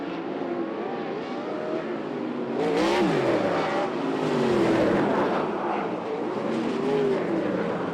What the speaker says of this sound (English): Cars going here.